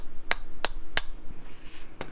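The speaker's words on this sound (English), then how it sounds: "I always give it a little tap with my hammer." Light hammer taps on a steel collet while freeing a fountain pen part, likely a 1940 Parker Vacumatic, during engraving removal work: four sharp metallic ticks, evenly spaced, close and clear over a quiet room with no talk.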